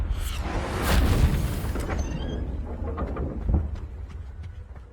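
A Confringo blasting spell from Hogwarts Legacy hits a locked entrance, opening with a loud, deep boom that rumbles and fades over several seconds, with a second softer thud midway.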